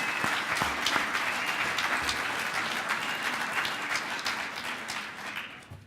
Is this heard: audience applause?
yes